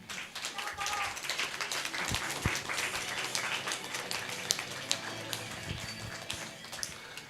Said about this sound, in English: please give a round of applause for the teams